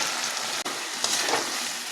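Paneer sizzles in hot oil and masala as it is dropped into the pan, a dense, even frying hiss with a brief dip and faint stirring bursts.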